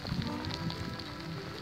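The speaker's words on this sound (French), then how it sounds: "il commence à pleuvoir" Light rain begins falling outdoors, a faint, soft patter of scattered drops on surfaces with a low rumble of background noise.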